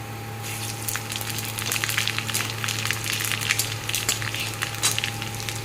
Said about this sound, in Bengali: তেজপাতা শুকনো লঙ্কা শুকনো লঙ্কা আর তেজপাতাটা হয়ে গেছে দিয়ে দিই পাঁচ পাঁচফোড়ন